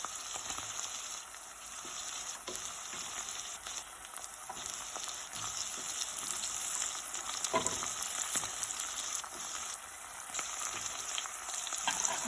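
Chopped tomato for a hotel or dhaba style paneer butter masala fries in a pan with a dense, continuous sizzle, close and even, broken by a few soft stirring scrapes, with no voices.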